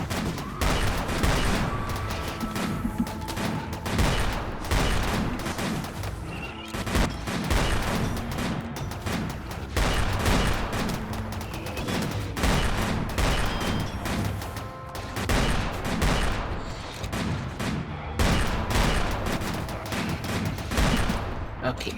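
Sustained video game firefight with dense, continuous volleys of gunfire and machine-gun bursts, loud and close, with booms and crashes mixed in and occasional talk underneath.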